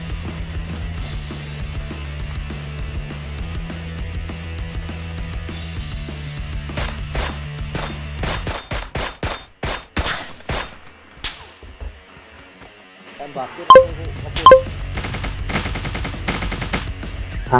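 Gunfire in the mobile game NewState Mobile: bursts of rapid automatic shots, then a string of single cracks, a pause, and a few more loud shots over a low droning backdrop.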